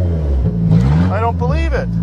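The engine of an old car, a Grand Marquis or Stanza, runs loudly and unevenly after starting on a long-unused battery, its rumble rising and dipping, while people talk excitedly over it.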